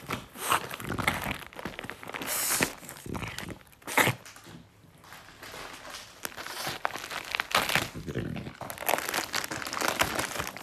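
Plastic packaging gets torn and crinkled open during an unboxing, with irregular bursts of crackling, ripping and rustling close by, and soft movement noises between them.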